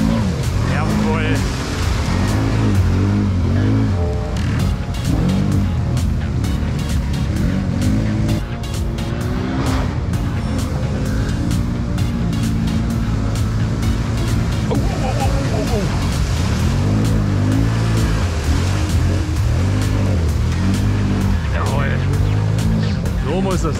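A Can-Am Maverick X3 Turbo off-road buggy engine revs and accelerates hard, a loud, continuous droning roar with rising and falling pitch sweeps, recorded close from onboard while people talk over it.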